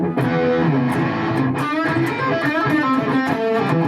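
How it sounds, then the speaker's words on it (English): An electric guitar plays through a Boss Katana 100 amp with the T-Scream boost, giving sustained, overdriven notes and bent phrases, loud and upfront with no voices. "But I'm not impressed with this scream at all."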